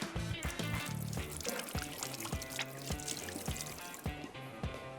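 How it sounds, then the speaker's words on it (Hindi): Hands are washed under water running from a kitchen tap, giving a continuous close splashing and trickling with clattering dishes and background music throughout. "हाथ में धो लूं।"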